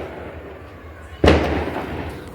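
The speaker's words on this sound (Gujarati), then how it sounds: "બધી બાજુ મંડ્યા છે ફટાકડા ફૂટવા." Firecrackers bursting outdoors during celebrations of a cricket final win: one sharp, loud bang cracks out after a quiet stretch, followed by a lingering rumble and crackle as it dies away.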